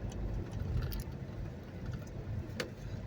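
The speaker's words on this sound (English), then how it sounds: "It must be a late activity bus." A school activity bus passes with a low, steady engine rumble and road noise, moderately distant and continuous, with a few faint higher clicks mixed in.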